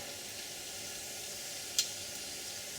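Cumin seeds sizzling in hot oil in a pan, a steady faint hiss with a single sharp click partway through, close and quiet, no voices.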